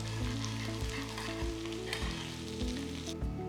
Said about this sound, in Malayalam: അത് ഫ്രൈ ചെയ്തെടുക്കാം. നല്ല ക്രിസ്പാകുന്ന വരെ ഫ്രൈ ചെയ്യാം.